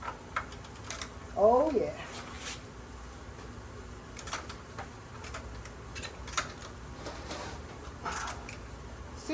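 A ratchet wrench fitted with an extender loosens a bolt on a Ford Bronco II, making faint irregular clicks and ticks with a brief louder metallic clatter, while someone speaks briefly.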